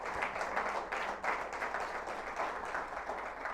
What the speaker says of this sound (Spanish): Bendiga a Dios con un aplauso.